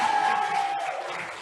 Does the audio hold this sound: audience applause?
yes